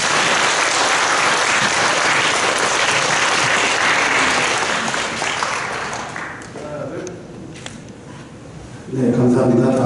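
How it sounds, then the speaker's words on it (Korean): Applause from a church congregation at the Daesung Presbyterian Sunday worship service, a dense steady clapping that fills the space for about six seconds, then thins and fades out while a voice begins speaking at the end. "박수 부탁드립니다"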